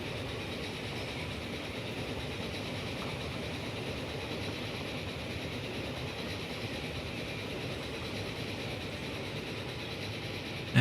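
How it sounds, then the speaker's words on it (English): Fast-moving train in the Transport Fever 2 video game, set in 1917, producing a steady, loud, continuous rumble and rail roar with a faint clickety-clack texture, unchanging throughout and heard alone with no talking. "And the train really moving fast."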